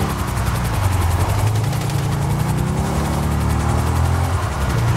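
Police helicopter in GTA V Online, a loud continuous rotor thump and engine drone hovering close overhead, steady for several seconds with no talking.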